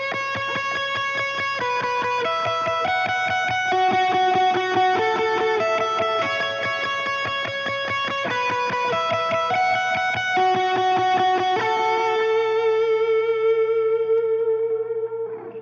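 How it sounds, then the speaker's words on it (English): Electric guitar playing the intro to a worship song through a gain drive with a little delay and reverb, a steady stream of ringing, sustained notes that swell and change every second or so, ending on a long held tone. "This is my gain drive sound. And I also have a little bit of delay and reverb."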